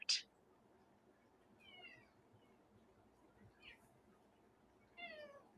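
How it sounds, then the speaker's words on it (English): A cat meows several times in a quiet room, short rising cries spaced a second or two apart, fairly close. "Well, I hear Elvis the Tarot Kitty."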